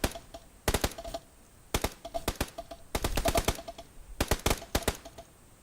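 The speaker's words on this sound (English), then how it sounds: "What are they shooting at?" Gunfire in a PUBG battle on the Straits map, heard as repeated bursts of rapid sharp shots in several rhythmic volleys. The shots are fairly close and loud over a faint background.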